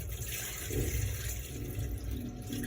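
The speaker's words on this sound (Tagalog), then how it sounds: "Gagawin natin ay lalagyan natin ng tubig" Water pours steadily into food being prepared, a continuous splashing rush, close by and fairly loud, with no speech.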